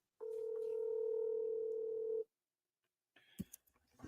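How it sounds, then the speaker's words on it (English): Telephone dial tone on a call being placed, a steady pure tone held for about two seconds, then silence and a few faint clicks and brief electronic beeps as the call connects. "Let's get him on the phone."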